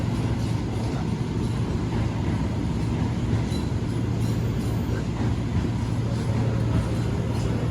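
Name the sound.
new-generation economy class train Fajar Utama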